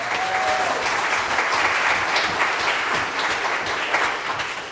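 Sustained applause from a large church congregation at Mass, steady and full for several seconds, with no speech over it.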